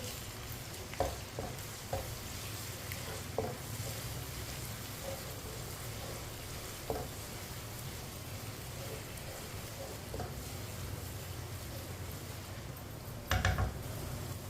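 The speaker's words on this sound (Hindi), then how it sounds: "प्याज और लहसुन को 3-4 मिनट के लिए पका लेते हैं।" Onion and garlic paste frying in a pan with cumin, a steady low sizzle running throughout while a spoon scrapes and stirs in occasional clicks, with a louder clatter near the end.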